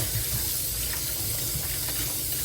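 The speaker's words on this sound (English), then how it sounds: "A little bit of hot water to take the extra dye out of there." Hot water runs steadily from a tap onto dyed, distressed fabric to rinse out excess dye, a constant close, loud gushing and splashing with no pauses.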